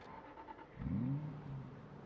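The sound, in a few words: car engine revving in Project Zomboid video game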